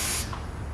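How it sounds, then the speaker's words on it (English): Air hissing out of a junior dragster during servicing, a loud steady hiss for about a fifth of a second, then fading to a low rumble before a brief hiss returns at the end. "Hear the air come out."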